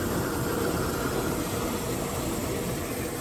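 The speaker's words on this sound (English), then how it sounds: "That is the sound of filling up one of my water tanks." Water tank being filled, likely at a campsite, a steady broadband rushing hiss that holds constant throughout with no pauses, fairly faint and heard alone without talking.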